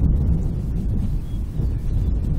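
Strong wind sweeping across a golf course, a steady low roaring rumble buffeting the microphone continuously for a couple of seconds, loud and close with no voices.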